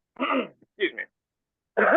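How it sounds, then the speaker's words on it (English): A person clears their throat in a few short, rough bursts with gaps between them, close and fairly loud, during a live open-table discussion. "Just had to clear my throat."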